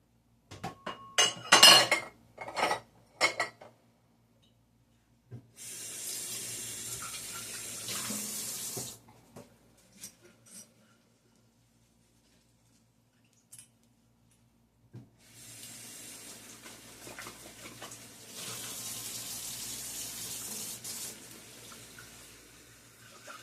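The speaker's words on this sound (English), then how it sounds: "Just rinse them off with water." Can openers rinsed under a running kitchen sink tap: bursts of water flow with brief clinks of metal utensils, close by, starting and stopping in a few separate runs, with no talking.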